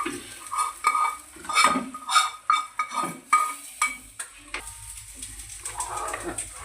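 Dal fry being stirred in a pan after salt and a little chili powder go in, with a spoon scraping and clinking against the metal in repeated close strokes, then easing into a quieter, steady background.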